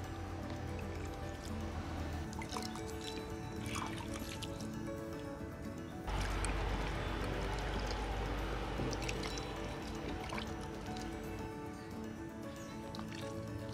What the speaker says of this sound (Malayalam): നമുക്കിതിന് വെള്ളം ഒഴിച്ചു കൊടുക്കാം